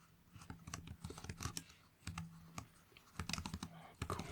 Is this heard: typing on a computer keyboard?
yes